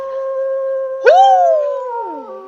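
Wolf howling in the video game Don't Eat The Cashier: a rising, wavering howl swells in loud and near over a steady humming drone, then slowly bends downward and fades.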